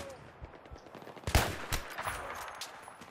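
Gunfire from above in a Team Deathmatch shooter game on the Death Valley map, with a loud sharp shot near the middle and scattered fainter shots around it.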